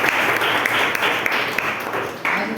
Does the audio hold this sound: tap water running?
no